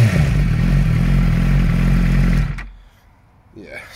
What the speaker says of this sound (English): it does sound good just being revved in the garden